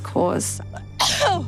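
A person sneezes sharply, likely from a dust allergy, with a quick intake and burst of breath followed by a second loud sneeze, up close amid brief talk.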